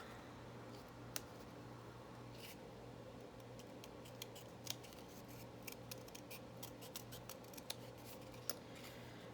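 Quiet, irregular snips of scissors cutting, a handful of sharp clicks spread over a steady low hum.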